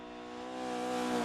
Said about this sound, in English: you can really hear them howling the car